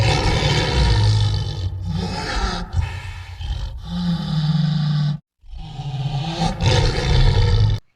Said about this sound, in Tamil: இது ரெண்டுக்குமே பிறந்த இந்த டைகன் இப்படி ஒரு சத்தம் போடும்.